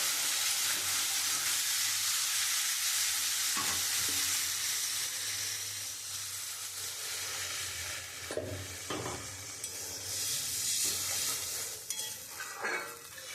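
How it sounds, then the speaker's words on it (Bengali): Water is added to spices frying in oil for a radish and puti fish curry, setting off a loud, broad sizzling hiss that settles into steady bubbling, with a few spoon clinks and stirs near the end. "এবার আমি পরিমাণ মতো জল দিয়ে দেবো"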